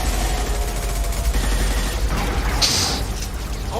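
Dense, rumbling gunfire and booms from combat in Mass Effect Legendary Edition, loud and sustained across the whole stretch, with a brief sharper burst near the end.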